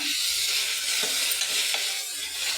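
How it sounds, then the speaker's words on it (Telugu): Mutton keema with mint being stirred and sizzling in AMC cookware, a continuous bright frying hiss with soft scraping strokes, close and steady, no talking. "కొంచెం పుదీనా కూడా ఇందులోనే వేసుకోవాలి కలుపుకోవాలన్నమాట బాగా"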